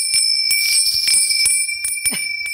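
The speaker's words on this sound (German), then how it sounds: "da klingeln die lustigen Glocken" Bright metallic bell tones of an alarm clock ring steadily at close range, a continuous jangling alarm with repeated rhythmic strikes throughout.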